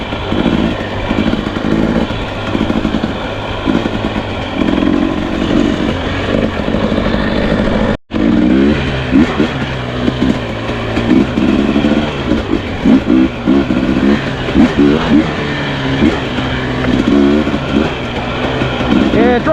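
A dirt bike engine revs hard and climbs repeatedly during hard enduro riding off-road, loud and fairly close, rising and dropping in pitch, with a brief cut partway through and voices talking over it.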